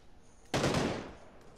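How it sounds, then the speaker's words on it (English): Sudden loud burst of gunfire in the battle royale game PUBG, a dense volley starting abruptly and then tailing off over about a second, with no talking. "Who's shooting?"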